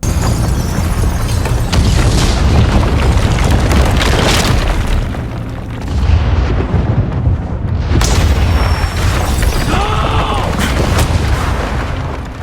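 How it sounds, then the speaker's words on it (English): Library being detonated in a video game, a sequence of loud booming blasts and crashing debris with rumbling rubble, dense and continuous, with faint voices mixed in. "he detonates the library with Will inside it"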